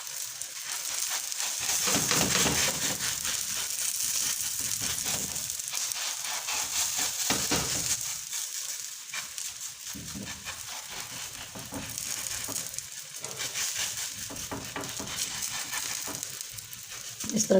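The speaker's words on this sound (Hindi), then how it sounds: "तवा मैंने रख दिया है, गरम हो गया और उसके ऊपर मैंने देसी घी डाल दिया।" Desi ghee on a hot tawa griddle crackles and hisses in a dense, continuous sizzle, close up and steady with small surges, for makki ki roti, with no voices over it.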